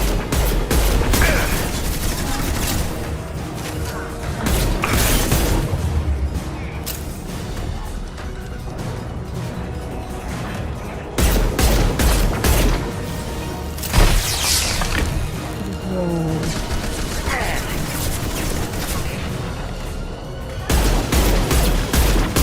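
Gunfire in Mass Effect Legendary Edition on Insanity difficulty: dense volleys of shots and booming impacts come in loud, clustered bursts separated by brief lulls, with voices talking over the combat at times.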